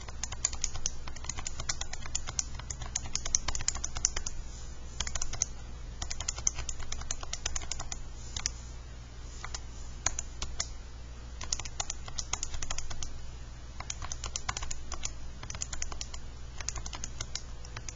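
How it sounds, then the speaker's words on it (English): Continuous computer-keyboard typing with rapid, uneven clicks and short pauses, close and fairly quiet over a low steady hum, with no talking. "I'm still typing, people."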